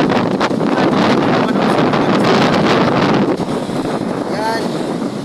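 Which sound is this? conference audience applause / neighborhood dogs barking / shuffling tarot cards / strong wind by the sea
strong wind by the sea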